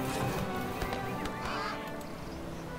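An evil crow summoned in the fantasy strategy game Age of Wonders 3 gives harsh, squawking bird calls in short bursts over a steady, busy game soundscape.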